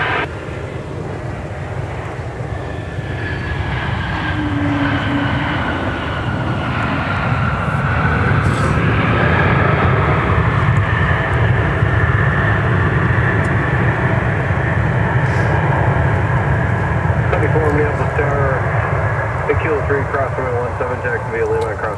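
A Delta Airbus A330-300 airliner comes in to land at Minneapolis–St. Paul Airport, its engines a loud, sustained roar with a whining tone that builds and holds, while people talk over it.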